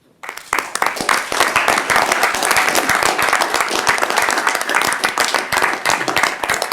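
Audience applause fills a board meeting room after attendees rise to affirm a motion honoring a member, with dense, steady clapping that starts abruptly and holds loud and close throughout.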